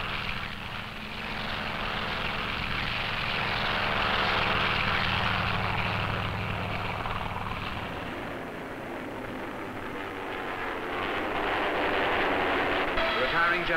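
WWII US Navy carrier planes of Task Force 58 drone steadily with propeller engine noise, a continuous loud roar that swells and eases throughout, heard alongside an old film soundtrack.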